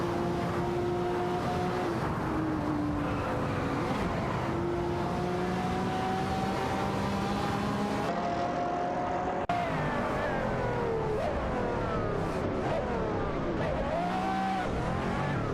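Race cars in a video game roar past, among them a McLaren F1 GT dueling an Aston Martin; several engine notes rise and fall steadily with gear changes, overlapping loudly throughout with no talk.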